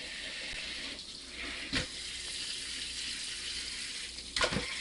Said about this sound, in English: Grandma says rinse your chicken in cold water after you get it all cut up.